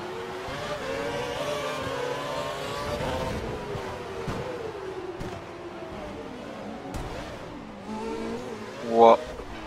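Formula 1 car in the F1 2012 video game at Monaco, with an engine note that climbs and falls through gear changes as it races along. A voice talks over it throughout.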